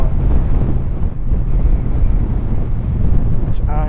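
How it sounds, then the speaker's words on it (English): Strong wind buffets the microphone with a continuous loud, low roar and gusty rumbling, briefly joined by faint higher sounds near the end. "but maybe not today when it's this windy."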